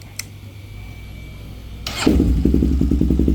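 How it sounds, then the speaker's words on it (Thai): A Honda TRX400EX ATV engine is started close by: a short crank bursts into life after about two seconds and settles into a steady, fairly quiet, even-pulsed idle. "สตาร์ททีเดียวติดนะครับ เสียงเครื่องเงียบๆเลย"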